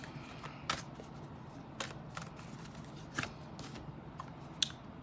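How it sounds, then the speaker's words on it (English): A card is drawn from a deck, heard as a few soft, close papery flicks and slides at irregular intervals in a quiet room. "Let's pull another card here."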